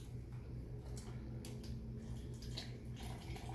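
Beef broth pours into a shaker in a steady close trickle and splash, a continuous wet liquid stream with small irregular drips and gurgles and no talking.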